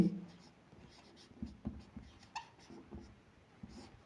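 A pen scratches across paper while a geometry exercise is worked out, with soft irregular strokes and small taps close to the microphone, with light breathing in the background.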